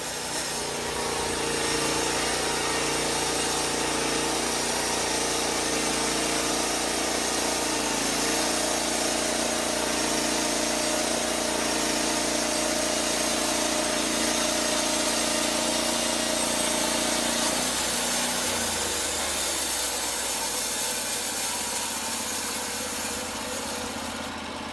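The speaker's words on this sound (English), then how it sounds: "Just lower the saw head, activate the operator's control, and guide the blade through the cut." LumberPro sawmill blade cutting through a log, a loud continuous engine-driven whine and roar that holds steady, its pitch dropping slightly near the end of the cut; sustained and close with no speech.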